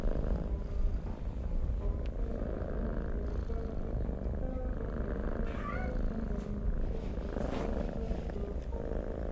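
A cat purring in the video game Pink Noise, a steady, continuous low rumble that runs through the whole stretch under a faint game ambience.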